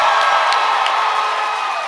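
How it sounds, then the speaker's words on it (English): A packed convention panel audience at RuPaul's DragCon 2017 cheering and whooping, a loud, dense wall of crowd noise with applause mixed in throughout. "so clap for yourselves"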